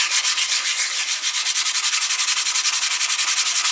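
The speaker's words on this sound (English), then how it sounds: "I'll try the other side with a sheet of sandpaper" Alloy rearsets from a Suzuki Bandit 1200 motorcycle are rubbed by hand with a sheet of sandpaper, giving close, loud, rapid and evenly paced back-and-forth scratching strokes with no pauses.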